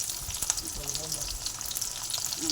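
Unpeeled potatoes sautéing gently over a low flame for sabudana khichdi give a continuous, even hiss of frying, close and steady for a couple of seconds with no pauses.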